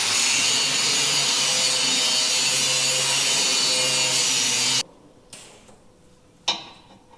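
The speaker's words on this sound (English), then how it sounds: "So I'm gonna grind that weld back out." A grinder cuts a weld back out of a steel frame for rock sliders, a loud, steady, continuous grind that runs for several seconds, then stops abruptly, leaving a quiet space with a couple of sharp knocks.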